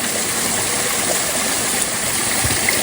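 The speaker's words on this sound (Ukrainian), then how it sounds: "Вон ще річка гірська." A mountain river in the Carpathians rushes steadily with a dense, unbroken roar of flowing water, close and loud, with no other sounds over it.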